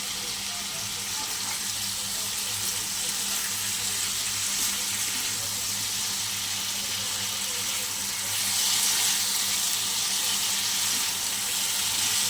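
Boiled taro roots and potatoes fry in a pan with prawns, giving a steady, close sizzle that swells briefly near the end, with no talk.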